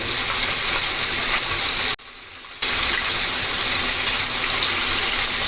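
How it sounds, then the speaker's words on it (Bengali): Chicken pieces deep frying in oil over medium heat for crispy KFC-style fried chicken, giving a loud, steady, dense sizzle that drops out briefly before resuming at full strength. "এভাবে চুলার তাপটা মিডিয়াম আঁচে রেখে সময় নিয়ে চিকেনগুলো ভেজে নিতে হবে"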